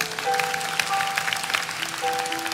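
A church congregation claps together, with rapid, fairly loud applause under a sustained musical tone and a shifting organ or keyboard note.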